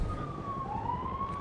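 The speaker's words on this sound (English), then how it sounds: "I hear a helicopter now and a million sirens" Police sirens wail in a video game, a continuous close wailing tone that rises and falls with no talk over it.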